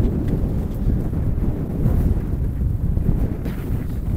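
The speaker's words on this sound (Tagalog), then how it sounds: "Ang hangin sobra." Strong wind buffets the microphone in a steady, heavy roar for the whole stretch during a motorcycle ride up a hill in Mabini, with no voices.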